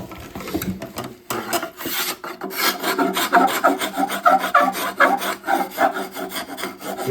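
An axe handle of rived wood is scrubbed by hand to knock down the fuzzy fibers. The rasping strokes are close and rhythmic, coming in quick repeated passes with no talking.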